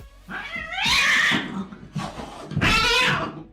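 A Bengal cat, a breed crossed from a domestic cat and a leopard cat, lets out two drawn-out, loud, wavering meows with a short pause between them, close to the listener and alone.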